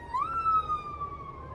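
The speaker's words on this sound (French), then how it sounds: "Ils ont des belles sirènes ici, hein." A police car siren sounds in a short rising wail that settles into a steady tone, fairly distant and clear against quiet street background.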